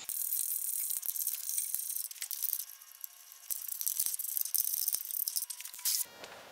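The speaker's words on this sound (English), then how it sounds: "I'll go ahead and finish tightening this up." A ratchet tightening a hidden winch mount on a RAM TRX makes a continuous, dense metallic rattle and clicking, close and loud, with brief gaps and sharp ticks before it stops near the end.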